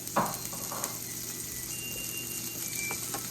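Onions sit sizzling in a frying pan, a soft, continuous frying hiss with a couple of small clicks, fairly quiet and without talk.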